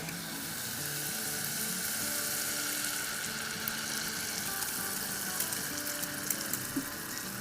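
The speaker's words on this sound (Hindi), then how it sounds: "तो इसमें अब डाल देंगे हम अपना ये सॉस।" Sauce going into a pan of sautéing garlic and ginger sets off a steady, close frying sizzle that runs throughout, with light scattered ticks and clinks near the end.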